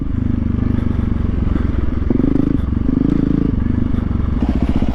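Dirt bike ridden off-road by a street rider trying it for the first time, its engine droning loud and close with revving surges, while clattering and scraping rise over the rough ground.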